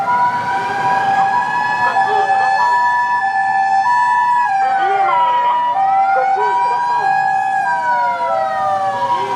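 Ambulance siren wailing loudly on a Tokyo street, its rising and falling tones sweeping steadily and continuously through the whole stretch with traffic noise underneath.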